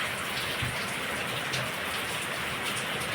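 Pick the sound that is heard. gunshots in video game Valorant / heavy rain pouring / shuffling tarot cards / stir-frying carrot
heavy rain pouring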